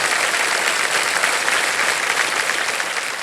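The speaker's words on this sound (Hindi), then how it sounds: "एक बार तालियां बज जाएं इनके लिए।" Studio audience applause on the quiz show KBC, a loud, dense and steady roar of clapping from a large crowd that continues evenly throughout.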